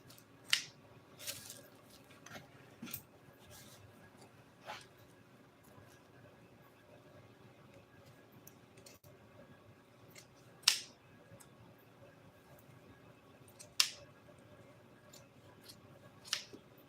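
Sharp, isolated snips of scissors cutting upholstery material for a Polaris seat, spaced irregularly several seconds apart in a quiet room.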